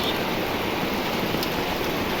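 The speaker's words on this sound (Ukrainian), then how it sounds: "такий у нас дощик гарний, да такий тихенький" Gentle, quiet rain falls as a steady, even hiss with no other sounds standing out, continuous and close.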